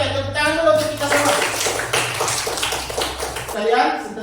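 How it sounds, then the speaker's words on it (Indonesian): A classroom group claps hands together, a dense patter of many overlapping claps running steadily for several seconds at moderate loudness, with voices mixed in beneath and a tone sounding near the start. "Oke, tepuk tangan dulu untuk kita semua"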